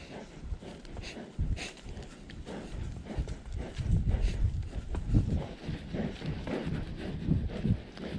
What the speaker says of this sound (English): She's a very nicely gaited horse.